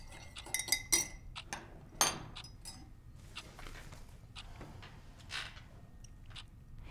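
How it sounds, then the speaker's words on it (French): A teaspoon stirs café au lait in a cup, sharp metallic clinks and taps against the porcelain early on, then softer scraping and scattered faint clinks in a quiet room. "Avec la petite cuillère, il a tourné."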